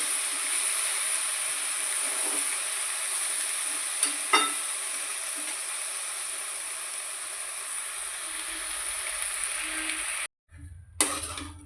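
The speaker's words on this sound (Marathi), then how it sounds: "हळूहळू आपल्याला हे असं हलवून घ्यायचं आहे भाजीला गॅसची फ्लेम मी कमी केलेली आहे" Dry fenugreek leaf sabzi is stirred slowly in a pan over a low gas flame, giving a soft continuous sizzle broken by occasional scraping clicks, and it cuts out briefly near the end.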